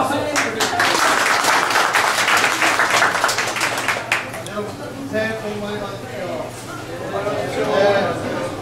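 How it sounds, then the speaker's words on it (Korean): Loud applause from the audience at a university real-estate graduate school alumni New Year gathering, dense clapping for about four seconds before it thins out as a presenter talks over the fading hands. "자, 박수."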